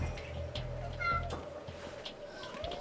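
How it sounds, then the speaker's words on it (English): Cats meow in the video game Metal Gear Solid 2: several short, fairly faint meows come in separate bursts over a low game ambience, with a voice speaking faintly at times. "There are cats."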